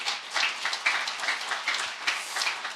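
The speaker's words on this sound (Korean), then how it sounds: "하나님께 영광 돌리는 박수 한번 하십시오." Congregation clapping during a Sunday evening church service, a steady moderate round of hands with rhythmic accents running throughout.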